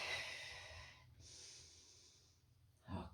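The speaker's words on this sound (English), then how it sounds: "just for a few breaths" Breathing during an abs and core exercise hold on a mat: a long, airy exhale fades into quiet, followed by a short, sharp breath near the end. The breaths are close and fairly soft.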